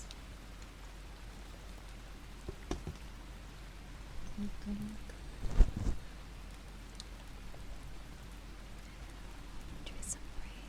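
Steady soft rain patters and hisses throughout at low volume, with a few brief louder taps and knocks midway and a faint voice murmuring over it.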